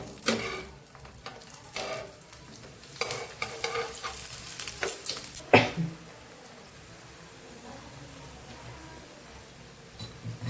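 Methi masala bhakhri, a Gujarati flatbread, roasting on a griddle over medium heat, with a soft steady sizzle broken by bursts of scraping and stirring as it is pressed and turned, louder in the first half, then settling into a quiet hiss.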